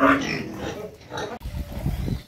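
Farm pigs, including a large boar, grunt and squeal at close range in rough, uneven bursts, with deeper rumbling grunts toward the end.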